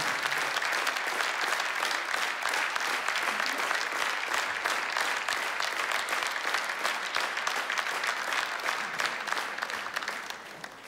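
An audience applauds at a film awards ceremony, with sustained, dense clapping from a large crowd that stays loud throughout and tapers slightly at the end.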